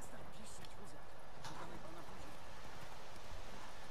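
Horse hooves clip-clopping at a steady pace in The Witcher 3: Wild Hunt, a continuous rhythmic patter under a background of game ambience.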